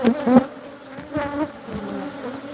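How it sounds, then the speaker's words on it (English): A bee buzzes close by in an attic, a few brief loud droning bursts that fade and return over a couple of seconds. "I got a bee in there"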